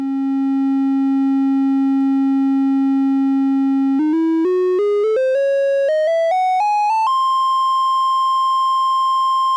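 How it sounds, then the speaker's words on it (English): The raw triangle wave of a Ladik VCO4 oscillator hums as a smooth, steady tone for several seconds, then steps upward in pitch in quick increments before settling on a higher held note. "Here's the sound of the raw triangle wave."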